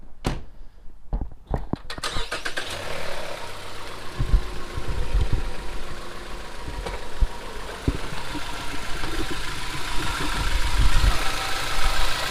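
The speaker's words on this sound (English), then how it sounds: "Why don't you just start the car, and then we'll put it in reverse and I'll listen down there?" A Ford Fusion car, damaged after running over a deer, starts with a few clunks and then settles into a steady, close engine idle that runs on with faint knocks.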